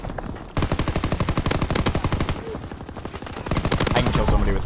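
Rapid automatic gunfire in a video game: a loud, steady stream of fast shots that starts abruptly and runs nearly unbroken, with a brief lull midway before it resumes.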